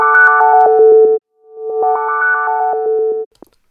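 A synth arpeggio run through a delay unit with saturation drive and distortion, bright stepped notes cycling over a sustained tone in two loud phrases split by a short gap, ending in a brief clipped blip.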